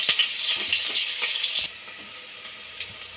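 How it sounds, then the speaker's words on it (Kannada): One onion fries in hot oil in a pan, giving a bright, close sizzle for a moment before it drops to a softer crackle with a few scattered pops. "ಎಣ್ಣೆ ಕಾದ ನಂತರ 1 ಈರುಳ್ಳಿ ಹಾಕ್ಕೊಳ್ಳಿ. ಸ್ವಲ್ಪ ಲೈಟ್ ಗೋಲ್ಡನ್ ಬ್ರೌನ್ ಆಗೋವರೆಗೂ ಹುರ್ಕೊಳ್ಳಿ."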